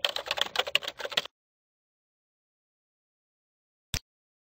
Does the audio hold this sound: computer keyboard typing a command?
yes